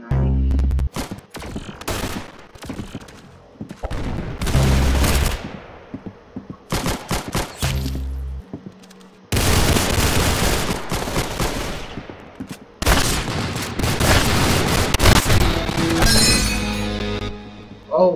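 Gunfire in a Roblox video game, loud bursts of rapid automatic shots and single cracks with shattering impacts, arriving in clusters separated by short pauses, close and dominant.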